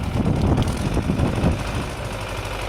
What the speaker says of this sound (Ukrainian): трактор гребеться